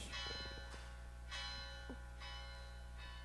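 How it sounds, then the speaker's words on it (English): A gong struck hard during a Buddhist dhamma talk, ringing out in several long resonant strokes about a second apart that sustain and overlap, heard faintly over a steady low hum in the room. "somebody is hitting that gong really hard today."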